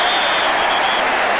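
A stadium crowd at a 1986 Detroit at Minnesota American football game cheers and applauds loudly and continuously after a play.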